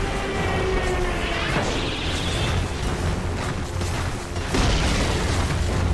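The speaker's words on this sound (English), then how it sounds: "Radiant's middle tower has fallen." A tower crumbles in a Dota 2 match, a booming crash and rumbling collapse swelling among layered game effects and clashing battle sounds, with a fresh burst of impact noise late on.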